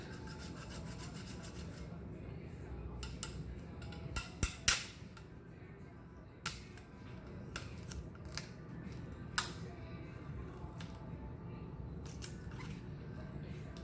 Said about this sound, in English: Okay, so I'm peeling the vinyl.